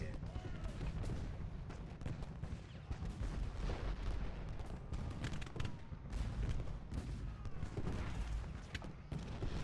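Dense, continuous battle noise from the Civil War video game Ultimate General Gettysburg, with artillery shell fire and gunfire rumbling and crackling steadily throughout at a loud level.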